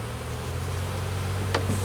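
Honeybees hum steadily and close by at an open hive during a spring inspection in March, with one brief sharp click near the end.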